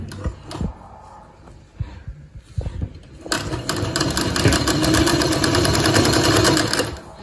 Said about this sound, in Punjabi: ਉਸ ਤੋਂ ਪਹਿਲਾਂ ਆਪਾਂ ਇੱਥੋਂ ਮਸ਼ੀਨ ਚਲਾਉਣੀ ਹੈ